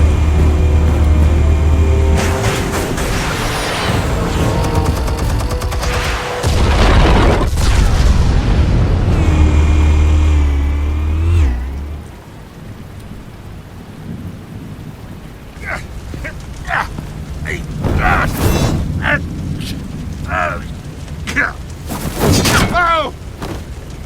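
Explosives detonating in the video game Batman: The Telltale Series, with heavy booming blasts and deep rumbling at the start, then scattered sharp cracks and debris impacts as the rumble fades.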